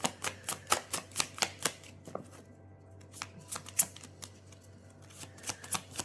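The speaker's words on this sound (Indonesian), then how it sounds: "ini aku akan shuffle dulu kartunya ya" Tarot cards being shuffled by hand, quick riffling bursts in steady rhythm at first, then a pause and a few scattered shuffles before the riffling picks up again, close and fairly quiet with no talk.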